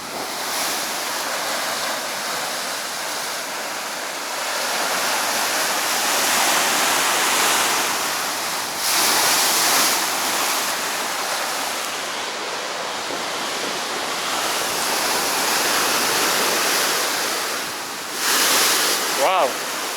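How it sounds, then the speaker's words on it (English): Ocean waves crash steadily against the rocky Gozo coast in Malta, a loud, continuous roar of surf with periodic surges and wind buffeting the microphone, with no talk over it. "Just from that you can see the force of the ocean."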